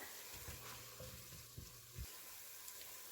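Green pepper and onion fry in a pan with a steady low sizzle, broken by a few soft stirring scrapes.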